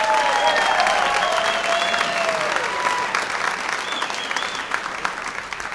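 A comedy club audience applauds loudly and steadily for an arriving comedian, with some cheering and whistles in the crowd, the clapping easing slightly toward the end.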